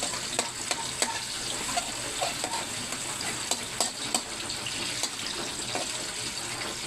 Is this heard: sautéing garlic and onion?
yes